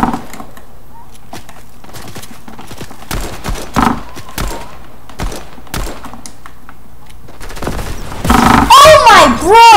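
Rapid video game gunfire and rocket blasts crackle in bursts through a chaotic multiplayer match, with sharp repeated shots under excited voices and a loud cluster of warbling effects near the end.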